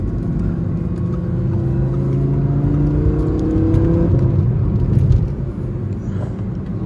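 An Audi R8 V10 sports car driving, its engine a steady droning whir with rising tones as it accelerates, heard from inside the cabin.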